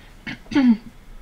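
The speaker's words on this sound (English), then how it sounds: "I'm going to clear my throat over here." Two short throat clears close to the mic, the second longer and rougher, with a brief voiced rasp at the end.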